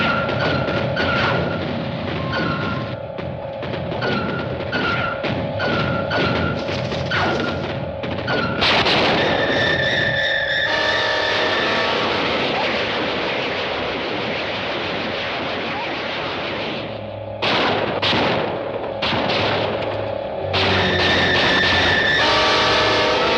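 Film artillery fires against flying saucers in a long roar of booming, rumbling blasts with steady high tones running through it, loud and continuous, with only brief dips.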